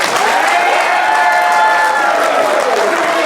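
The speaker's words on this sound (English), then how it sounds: "I just want to make sure we get one more round of applause for Trinity." Wrestling-event crowd applauding steadily, a dense, continuous wash of clapping that holds at full strength throughout, close and loud with no gaps.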